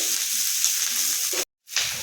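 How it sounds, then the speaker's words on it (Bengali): Cauliflower fries in hot oil in a wok with a bright, continuous close sizzle, cut off by a brief moment of silence before the crackling hiss returns. "এই যে তেল দিয়েছি কড়ার মধ্যে এমনি কড়া গরম হয়ে গেছে তো চলুন এই যে ফুলকপি ভাজা অলরেডি বসিয়ে দিয়েছি"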